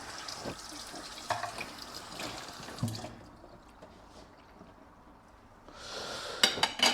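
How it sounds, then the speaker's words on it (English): A kitchen tap runs as a spoon is rinsed, a soft steady splash of water with light clinks of metal, the flow stopping partway and then starting again. "I actually need to rinse off a spoon."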